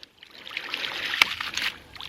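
A homemade ram pump fitted with two inline valves cycles water on its own, giving a steady trickling, splashing rush with one sharp clack midway. It sounds close and moderately loud, with no talk.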